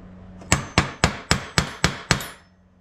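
Seven sharp metallic hammer taps on a punch mark hole centers on metal. The blows are close and evenly spaced, each ringing briefly before the next, with no talking.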